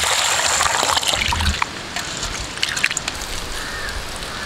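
Loud, continuous bubbling and hissing of water rolling at a boil in a pot for sambar, steady throughout with small popping bursts.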